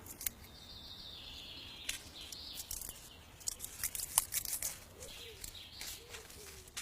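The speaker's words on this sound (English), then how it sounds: "if you just get your fingernails into one of those, it should just peel apart, and then you can just chase the split up the stem" Fresh nettle stem fibre peeled apart by fingernails makes faint, crisp snapping and ripping sounds close by, with birds chirping softly outdoors in the background.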